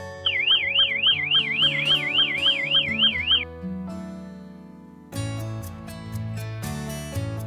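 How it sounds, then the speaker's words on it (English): A Toucan security light camera sounds its loud siren alarm, a rapidly warbling electronic wail that runs for a few seconds, then gives way to music. "you can trigger the loud siren alarm remotely from the app"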